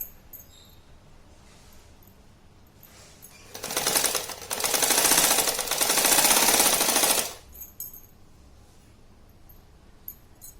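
A sewing machine stitches a zippered cloth shopping bag in one loud, rapid mechanical run lasting a few seconds, with quiet handling sounds before and after.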